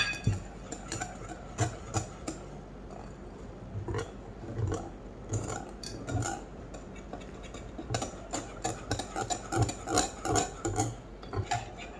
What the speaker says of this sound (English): the flour and corn flour and mix it well.